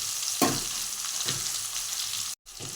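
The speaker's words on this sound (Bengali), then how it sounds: "একটু ভাজা ভাজা করে নিতে হবে" Pieces of eggplant and potato crackle in hot oil seasoned with turmeric and salt, a constant hiss with a few spatula scrapes, then a brief dropout of silence before the frying resumes.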